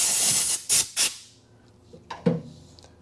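Compressed air blasts off a small steel lathe part, a 3/4" mandrel and nut in a machine shop, in three short loud hissing bursts, followed by faint clinks of metal handling.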